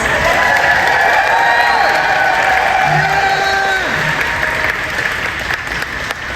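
Crowd applause with scattered cheers at a cosplay competition during winners' announcements, a dense steady roar of clapping that fades slightly toward the end, with a voice briefly audible over it.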